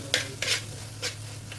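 A spoon stirs a yogurt mixture for chicken biryani in a bowl, giving four short scraping strokes at an uneven pace over a steady low hum. The scrapes are close and moderately loud, with no talking.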